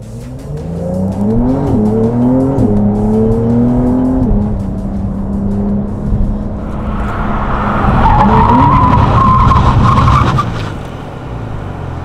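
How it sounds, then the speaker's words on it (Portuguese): A Porsche 911 GTS braking hard, with a loud, close engine note that sweeps down in pitch, then a rising rev and a broadband rush near the end. "Fazer frenagem agora."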